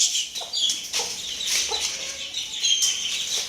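Chicks and poultry peep and cluck steadily in a backyard enclosure, with bright chirps from young birds layered over occasional louder calls nearby.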